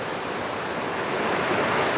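Floodwater swollen by the previous day's rain rushes past in a steady, loud, broadband roar with no pauses or voices.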